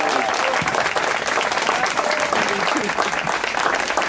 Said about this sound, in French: et nous, on peut les applaudir